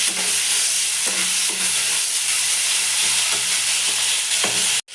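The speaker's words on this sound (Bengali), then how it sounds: "পেঁয়াজ দিয়ে দেবো পেঁয়াজ দিয়ে ভালো করে ভেজে নেবো" Onion frying in hot oil with five-spice seeds, a steady loud sizzle with occasional stirring scrapes, close up and without talk, cutting off abruptly at the end.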